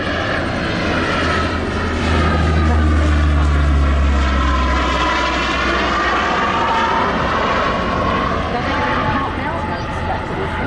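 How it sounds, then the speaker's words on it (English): Propeller aircraft making a low, slow flypast with its door open at the Wings over Wairarapa airshow, a loud, steady engine drone with a deep throbbing hum that swells and lingers throughout. "There's Hogs bringing us through on a low and slow pass"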